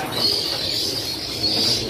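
A plump MH-type murai (magpie robin) songbird sings a sustained, high, bright warble that keeps going steadily for about two seconds against a low background murmur.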